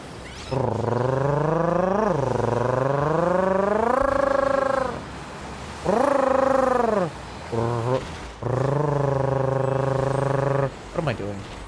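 A voice imitates a motorcycle ridden in a Pokémon video game, producing long droning vroom tones that rise and fall in pitch in several bursts separated by short pauses, loud and close.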